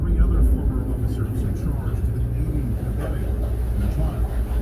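A 2019 2750 Ultra Cab center console boat accelerates hard onto plane. Its engines give a loud, deep roar and rumble that stays strong throughout, with voices mixed in underneath.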